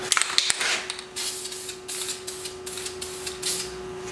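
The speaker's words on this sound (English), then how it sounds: "I just want to get a coat of paint on it." A spray can of Dual gloss black primer-and-paint coats a metal part with a run of hissing bursts, close and moderately loud, over a faint steady hum.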